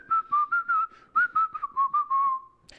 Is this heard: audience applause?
no